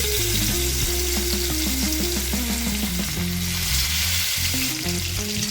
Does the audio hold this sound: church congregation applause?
no